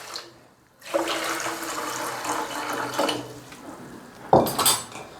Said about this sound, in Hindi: अब इसमें पानी ऐड करेंगे हम शुगर में।